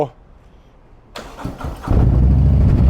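A Harley-Davidson Road Glide Special's 131ci engine cranks and fires up at about one second, then settles into a loud, deep, rumbling idle that fills the rest of the clip.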